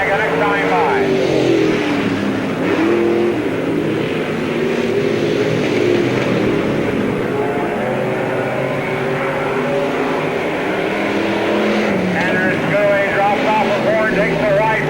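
Dirt-track race cars roar past at the 1998 Spoon River Speedway Summer Nationals, a constant loud engine drone with rising and falling revs as the field circles, under a track announcer's voice.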